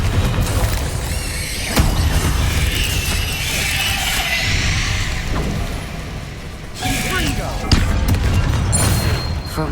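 Confringo fire spells burst in Hogwarts Legacy combat, with several booming impacts over a dense, rumbling mix of battle noise and a voice calling out between blasts.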